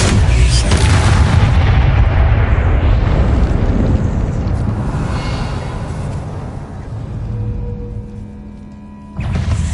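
A Bombarda spell in Hogwarts Legacy bursts in a heavy, close explosion with a deep rumbling roar that slowly fades over several seconds before another impact cuts in near the end.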